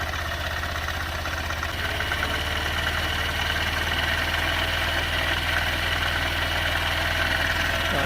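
A 2023 Honda CB125F's small single-cylinder engine idles slightly high, a steady close mechanical chug with a fast, even pulse and a rattly edge that holds throughout with no voices.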